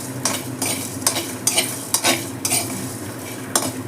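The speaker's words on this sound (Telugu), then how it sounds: "కొబ్బరితో పాటు ఈ ధనియాలు కూడా వేయించుకోవాలి." Coriander seeds are roasted with coconut in a hot kadai, giving repeated scraping stirs of a spoon against the pan about every half second over a soft, dry sizzle.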